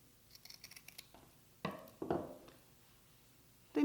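Ribbon snipped from the bolt with scissors, a few light clicks followed by two close, crisp cuts, then quiet.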